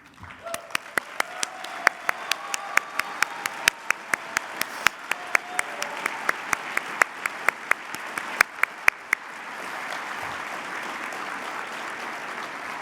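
Audience applause at an awards lunch for SVA Leadership Fellows: dense, steady clapping from a sizable crowd with sharp individual claps standing out, settling into a softer wash of applause near the end.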